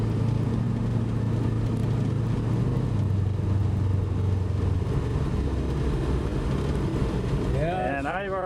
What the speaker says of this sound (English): Sorry, I'm just touching the accelerator here.